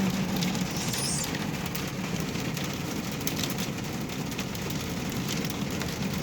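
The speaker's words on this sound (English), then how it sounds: "This is the first wintry mix of the season." Wintry mix of rain and ice falling steadily in New Mexico, a dense, even hiss of drops spattering on surfaces that carries on unbroken throughout, with no talking.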